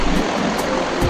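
A waterfall at Varne in a natural rocky setting sends out a loud, continuous rush of falling water, broadband and steady throughout with no voices.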